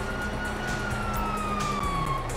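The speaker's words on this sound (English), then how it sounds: "You hear that? Sirens!" A police siren in the video game GTA 5 wails steadily over a constant rumble of engine and traffic noise, the tone slowly sliding downward as it sounds.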